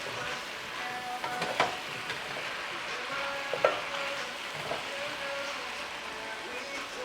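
Brussels sprouts with cranberry sauté in a pan, giving a soft continuous sizzle with occasional stirring clinks and scrapes, faint and steady, while a person talks over it.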